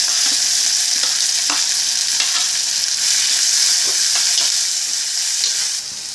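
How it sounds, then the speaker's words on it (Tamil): Sliced onions with green chillies sauté loudly in a pan for a gram-flour chutney, a dense continuous sizzle with occasional faint stirring taps, easing off slightly at the end. "வெங்காயம் வந்து டிரான்ஸ்பரண்ட்டாக வதங்கினா போதும்."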